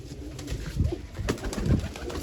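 Large female pigeons coo nearby in a few soft, low, throaty bursts over a steady background hum.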